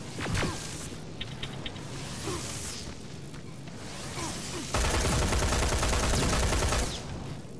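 Sustained video-game gunfire in Terminator: Resistance aimed at the player, a dense crackling fusillade with sharp shots early on, growing louder and heavier in the second half.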